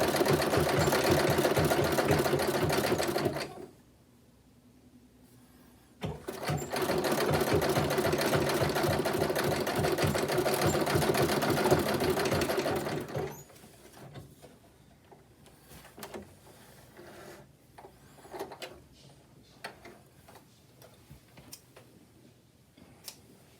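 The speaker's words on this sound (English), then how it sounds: "as you pull it through the sewing machine, or as the feed dog guides it through the sewing machine" Sewing machine stitching a fabric corner, a fast loud rattling run of a few seconds, a brief pause, then a longer steady burst, followed by quieter clicks and handling of the cloth.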